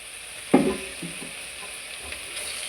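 Cooked rice drops into pudina (mint) masala in a pan with a dull thud, then a soft steady sizzle and a few light stirring scrapes follow, close and fairly quiet.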